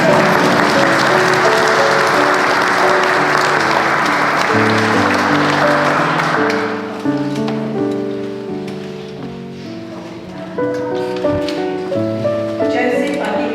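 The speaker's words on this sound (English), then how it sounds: "I think the boys could do a big round of applause." Wedding guests at Bourton Hall give a hearty round of applause, loud and dense at first, then fading as musical tones take over and the clapping thins out.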